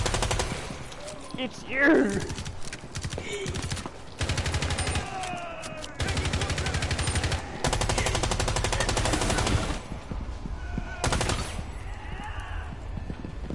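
Rapid automatic gunfire from a video game comes in long, loud sustained bursts with short gaps between them, while voices shout over the shooting.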